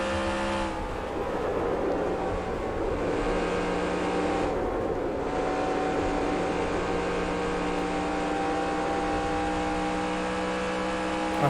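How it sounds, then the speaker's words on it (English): Next Gen race car at Kansas in NASCAR Racing 2003, engine droning loud and steady under acceleration, a continuous high whine with a slight dip partway through. "Just really wanting to get back to that gas pedal as quickly as I can."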